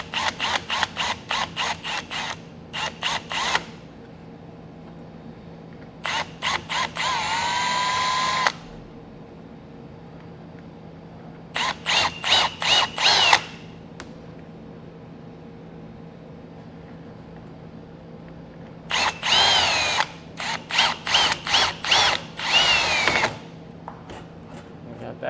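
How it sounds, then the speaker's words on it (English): Power drill boring into plastic trim while fitting a Curt trailer hitch receiver on a 2023 Ford Maverick, short rapid on-off trigger bursts in several clusters separated by quiet pauses, close and fairly loud. "Trying to just drill as little as possible, that way I don't kind of burn up the plastic."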